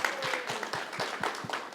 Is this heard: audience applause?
yes